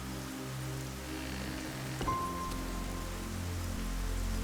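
Steady rain falls outside at night, a constant dense hiss with a low hum beneath it and a faint brief tone partway through.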